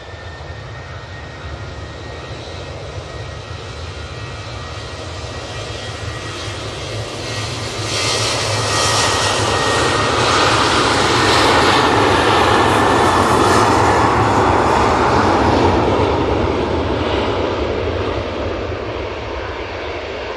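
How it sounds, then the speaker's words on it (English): An EasyJet Boeing 737 jet takes off from Manchester Airport bound for Palma de Mallorca. Its engine roar builds from a moderate rumble into a loud, sustained thunder with a rising whine, then begins easing off, with no talk over it. "EasyJet 737 off to Palma de Mallorca."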